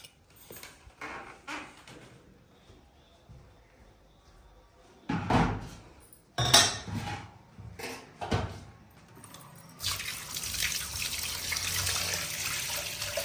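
Tap water runs steadily into a sink while rice is washed in a home kitchen, starting after several sharp door or cupboard knocks and thuds earlier on.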